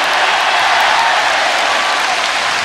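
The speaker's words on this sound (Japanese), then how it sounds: "自分ら拍手してるけど" A concert crowd at a rock show claps in a dense, steady roar of applause, loud and continuous throughout with no voices on top.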